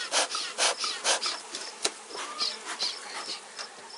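Honey bees buzz around an open hive during an inspection, with bursts of broad hissing buzz and scattered higher whines as insects pass close by, plus occasional rubbing and scraping of hive parts.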